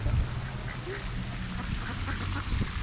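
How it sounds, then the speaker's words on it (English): Geese squabbling or mating at a memorial plaza pond in Longview, Texas, giving loud close honks and quacking calls over steady outdoor background noise. "That goose does not like us here."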